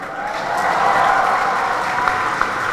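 Steady audience clapping runs the whole time at an event in Semarang, dense and fairly loud, fading slightly toward the end, with a few sharper individual claps and no clear talk.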